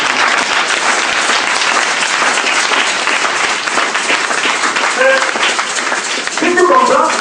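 A church congregation breaks into loud, sustained applause that fills the space, with cheering voices rising through the clapping toward the end.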